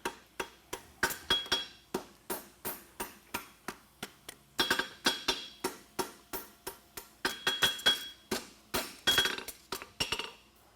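A blacksmith hammers a hind toe cap horseshoe on an anvil, striking in a steady rhythm of bright ringing blows, about two per second, close and loud with brief pauses between series.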